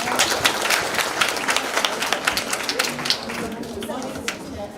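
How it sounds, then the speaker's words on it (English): Scattered audience clapping at a primary school grade 4 parents' meeting as a mother stands to speak, moderately loud with sharp individual claps, while voices talk over it. "Let's give her a clap as she stands."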